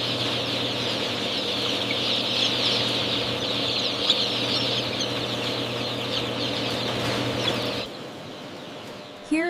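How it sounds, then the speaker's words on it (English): Massed chicks peep nonstop in an egg factory hatchery, a dense high chorus over a steady mechanical hum that cuts out near the end. "a healthy chick breaks free from its shell in the controlled environment of the hatchery"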